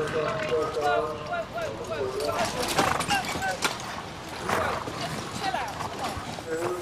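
Horse hooves clip-clop in a steady gait beside a spoken voice at the Windsor Horse Show, with outdoor background noise and scattered clattering.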